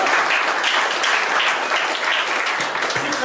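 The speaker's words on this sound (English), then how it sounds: "Clap hands." A crowd at a YoCoin event in Dallas applauds in steady, dense clapping that lasts the whole few seconds without a pause.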